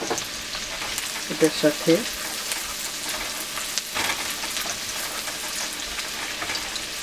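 Two chilies fry in a pan for chilli chicken with a steady close sizzle, a few quick clacks of stirring early on, and a brief spoken remark over the crackle.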